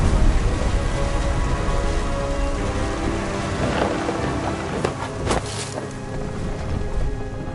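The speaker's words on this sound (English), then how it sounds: "The thunder sounded much too close and full of angry power." Heavy rain pours steadily during a thunderstorm in the video game What Remains of Edith Finch. Low thunder rumbles beneath the dense, loud hiss of the downpour.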